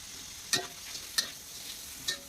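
Shrimp being stir-fried with water spinach stems in a pan, a soft continuous sizzle broken by three sharp scrapes of a ladle against the pan at regular intervals, no talking.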